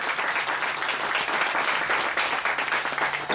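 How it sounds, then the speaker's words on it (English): A crowd applauds loudly and steadily throughout, a dense, continuous wash of clapping from a live audience with no voices rising above it. "Y'all clap it up for yourselves."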